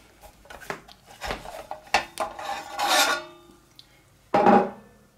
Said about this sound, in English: So let's remove the cover.